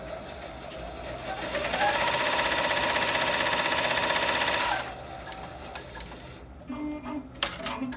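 A Barudan Pro 3 single-head embroidery machine restarts after rethreading, stitching with a loud, fast, steady mechanical chatter for about five seconds before stopping, followed by quieter clicks and handling noises.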